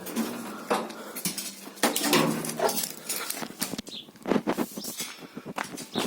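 Homemade hay side boards of a walk-behind tractor trailer being lifted off and set down, giving irregular metallic clanks, scrapes and rattles, close and fairly loud, with short bursts separated by brief pauses.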